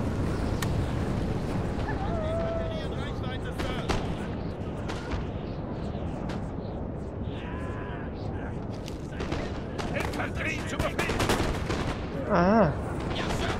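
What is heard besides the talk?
musket gunfire in the video game Napoleon: Total War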